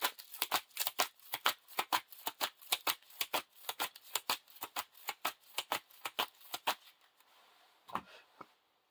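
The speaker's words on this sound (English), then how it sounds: "we got to shuffle this" A deck of playing cards for the Lord of the Rings living card game is shuffled by hand. There are about two dozen quick, crisp riffling snaps in a steady rhythm, close up, which slow to a few scattered flicks at the end.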